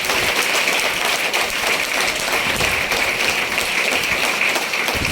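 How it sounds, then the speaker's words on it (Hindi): Crowd applause at a gathering honoring a husband and wife, a dense, continuous wash of clapping that stays steady and loud throughout with no break. "मैं चाहता हूँ जोरदार तालियां हस्बैंड वाइफ दोनों के लिए।"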